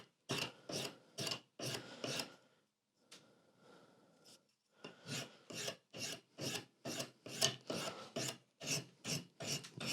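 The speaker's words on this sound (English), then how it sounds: "we're just going to take the top of the nut down ever so slightly" A file rasps down the top of the nut on a cheap guitar in quick rhythmic back-and-forth strokes, close and clear, with a short pause partway through before the strokes resume at an even pace.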